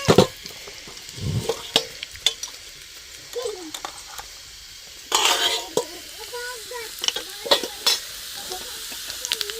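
Cumin seeds sizzle in hot oil in a home kitchen, with stirring scrapes and a few clinks of utensils against the pan over a steady frying hiss, while a voice speaks intermittently nearby.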